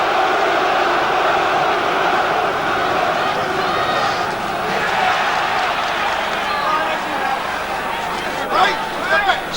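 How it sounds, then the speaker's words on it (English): Boxing arena crowd roaring and cheering for heavyweight Frank Bruno in his fight against Bonecrusher Smith, a dense continuous wall of massed voices and whistles, loud and sustained throughout. "the crowd getting behind Bruno"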